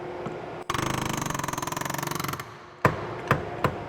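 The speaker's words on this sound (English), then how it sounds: "you're going to use an air hammer." An air hammer bursts into a fast, loud rattling on a Toyota or Lexus wheel hub to break the spline free of the bearing, running for about two seconds before three sharp, separate metallic blows.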